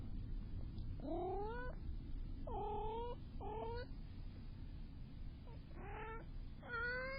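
A cat meows several times in drawn-out, rising and falling cries, fairly near, with a low steady background hum and no talking.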